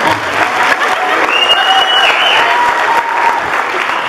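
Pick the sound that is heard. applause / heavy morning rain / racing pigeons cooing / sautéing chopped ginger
applause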